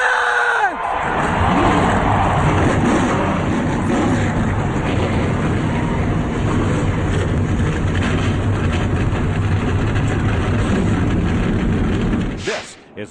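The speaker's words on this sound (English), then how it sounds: "Gentlemen, start your engine!" Loud, dense roar of NASCAR stock car engines firing up together at the Dover race in 2009, a sustained broadband rumble that holds steady for over ten seconds before cutting off.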